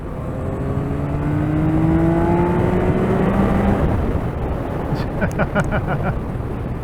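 A 2024 Yamaha MT-09 motorcycle engine revving through a couple of downshifts, its pitch sweeping up and down over loud riding wind noise.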